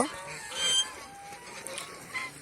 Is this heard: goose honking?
yes